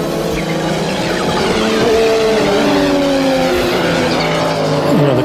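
Loud Audi five-cylinder racing engine screaming at high revs, holding steady and shifting pitch as it accelerates, close and continuous with a faint squeal of tyres near the end.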